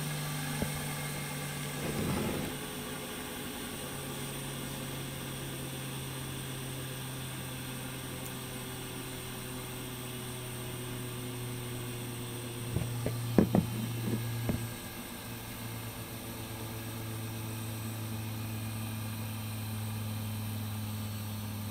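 VCR recording head drums spun up to very high speed, giving a steady droning hum with throbbing mechanical vibration and bearing harmonics, plus a few brief sharp clicks midway, close and continuous.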